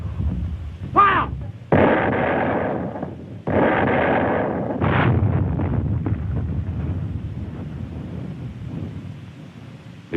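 Artillery from the WWII North African campaign fires in archival war footage. Several heavy, booming blasts roll out one after another with long rumbling tails, and there is wind-like noise throughout.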